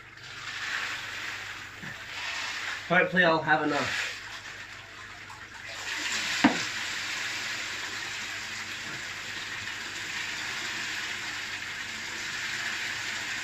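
Aquarium rocks from an old tank are poured into a fish tank, giving a continuous gritty rushing hiss with a louder clattering burst early on; a person speaks briefly over it.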